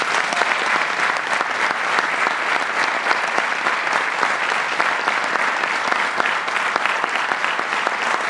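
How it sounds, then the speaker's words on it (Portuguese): At a children's song festival in Madeira, an audience gives conductor Zélia Gomes a long, even burst of dense, loud applause that continues unbroken throughout. "para quem pedimos um forte aplauso."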